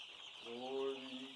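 Day-old chicks on a farm let out a brief chirping call, faint and fairly close, with a soft background hum.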